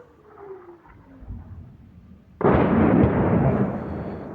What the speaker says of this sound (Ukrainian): стріляють по центру.